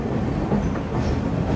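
The Kondaveedu Express runs along its route out of Vijayawada with a steady, close rumble of wheels and carriage noise, alone with no voices.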